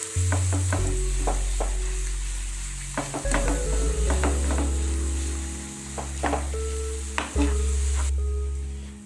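Mustard seeds and curry leaves sizzle in hot oil for a Sri Lankan garlic gravy, a steady close crackle broken by repeated clicks and scrapes of a spoon stirring in the pan, with no one speaking.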